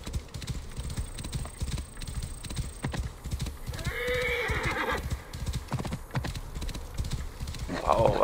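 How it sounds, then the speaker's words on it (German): A horse gallops with rapid rhythmic hoofbeats in the game Assassin's Creed Origins, and a loud neigh rises midway. Someone talks over the hooves at times. "Wow, was für ein tolles Pferd."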